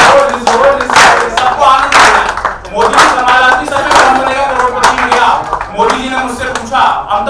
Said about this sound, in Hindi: ताली बजाओ मिल के सारे जोर जोर से